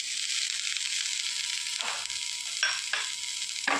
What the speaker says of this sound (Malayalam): ഇതെല്ലാം കൂടെ ചേർത്ത് നന്നായിട്ടൊന്ന് ഇളക്കി യോജിപ്പിക്കണം.